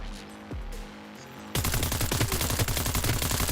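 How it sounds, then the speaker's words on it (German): Rapid automatic gunfire erupts suddenly in the Cyberpunk 2077 video game, a loud, dense burst of shots rattling on continuously after a brief quieter stretch with a few muted sounds. "Das war's mit Sneaken, jetzt wird geschossen."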